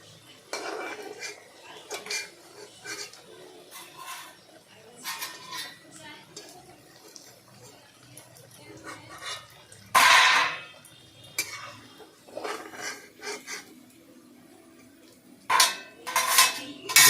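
Hot freshly fried onion pakoras moved into a bowl, with clinks and scrapes of a metal utensil against the dish in scattered bursts, a few louder knocks, and a voice talking intermittently.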